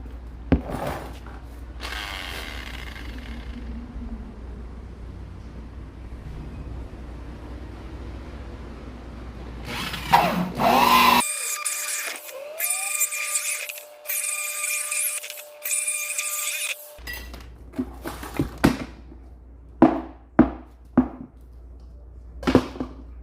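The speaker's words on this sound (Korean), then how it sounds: "95mm짜리 구멍을 타공하도록 하겠습니다" Drilling a 95 mm hole with a hole saw, a fairly close power drill whining and grinding in bursts between rattling handling noise and sharp knocks, with no talk.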